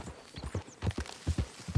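Horse hooves clip-clopping at a walking pace in Red Dead Redemption 2, a close, uneven run of muffled thuds with no talk over them.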